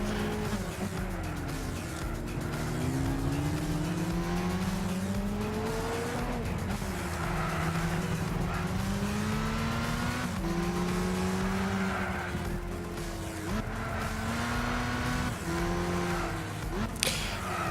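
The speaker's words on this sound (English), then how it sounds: "About to pass Castillo's Impreza" Subaru Impreza race cars in the Gran Turismo 6 video game drone steadily, engine pitch rising and falling through gear changes across the whole stretch, with faint tire noise and no talk.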